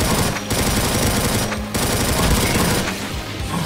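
Gunfire from a weapon in Doom with the Project Brutality mod, fighting in Hell: sustained, loud automatic fire in dense rapid bursts that break off briefly a couple of times, with no talking.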